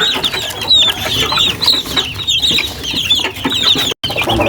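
Hungry chicks, some of them sick, peep loudly and almost nonstop in a dense, overlapping chorus of shrill calls, close by and alone with no talking.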